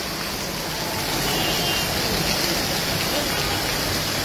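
Heavy rain pours steadily in Saudi Arabia, a dense, even hiss of falling water that holds at a constant loud level throughout, with no voices.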